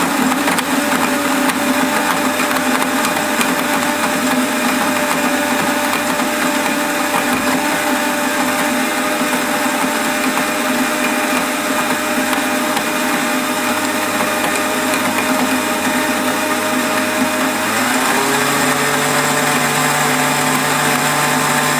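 A food processor or blender whizzes oats with a loud, steady motor whine that runs for over twenty seconds, shifting pitch slightly near the end as the load changes.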